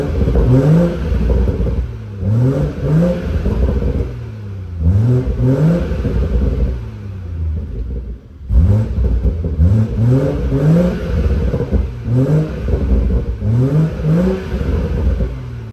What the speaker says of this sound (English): Let me get y'all some revs.